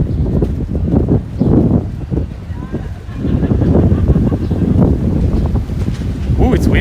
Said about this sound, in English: It's really windy. It's blowing my phone down.